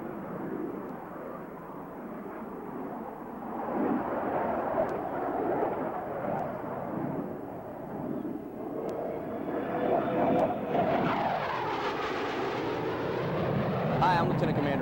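Blue Angels jets take off at an airshow at Grissom AFB, their engine roar rising and swelling from a distance into a loud rush with a sweeping pass near the end.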